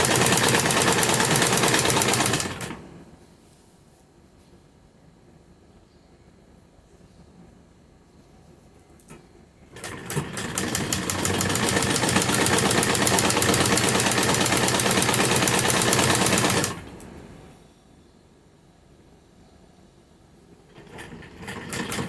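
A sewing machine stitches a salwar mori design in two long bursts of rapid mechanical rattling, each running several seconds, with quiet pauses between them and a third burst starting at the end.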